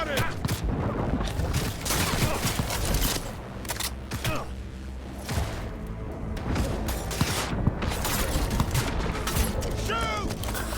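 Continuous gunfire in the video game Cyberpunk 2077, dense rattling shots and fusillades throughout, mixed with game dialogue voices shouting over the shooting.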